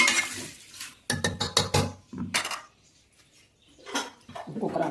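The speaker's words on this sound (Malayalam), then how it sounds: "പിന്നെ നമ്മൾ കൈ വെച്ച് ഇതെല്ലാം കൂടി നന്നായി മിക്സ് ചെയ്യാം." Green gram curry ingredients in a pot are mixed by hand, giving bursts of wet squelching and scraping against the metal pot, broken by short pauses.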